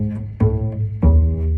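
Bass playing measure 33 of a piece in half position: two firm plucked low notes about half a second apart, each ringing out clearly on its own.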